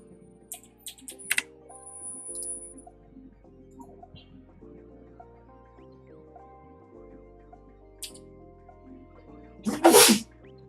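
One loud, sharp sneeze bursts out near the end, close to the microphone, over a quiet background of soft music and scattered keyboard clicks during a Python programming session.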